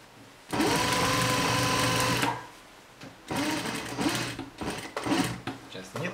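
Sewing machine stitching a jacket, running in loud close mechanical bursts: one steady run, a pause, then a longer uneven run with a clattering needle rhythm, and someone talking over parts of it.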